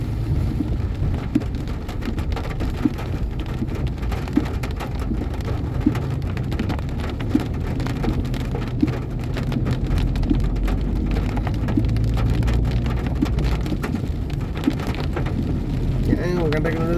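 Steady heavy rain pours down on a road with traffic, a dense continuous hiss with scattered drops hitting surfaces nearby and a low rumble underneath.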